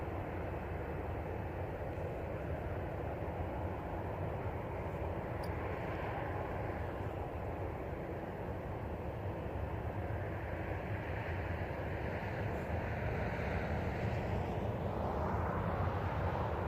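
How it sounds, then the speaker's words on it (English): A jet airliner at Christchurch Airport makes a steady, broad roar throughout, with a slight swell toward the end as it departs. "Flights going off to Melbourne there, eh? Qantas, and then Air New Zealand."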